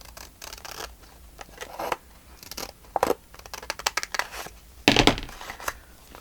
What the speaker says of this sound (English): now I think that maybe needs to be cut in just a slight bit more